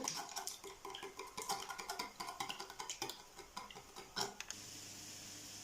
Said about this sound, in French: je vais mélanger bien comme il faut